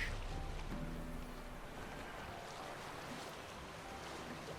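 Small boat motor of about ten horsepower in The Witcher 3 game, a steady low engine drone mixed with water wash and wind, fairly quiet and constant, with no talk over it.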